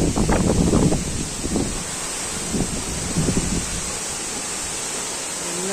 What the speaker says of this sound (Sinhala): එන්න ඉතින් අපි ඇල්ල වැටෙන් තැන්ට නම් ආවා